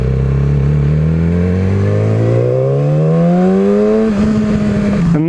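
A Yamaha R6 sport bike accelerates hard, its engine note climbing steadily through a long pull, then dropping briefly at a gear change before rising again, loud and close.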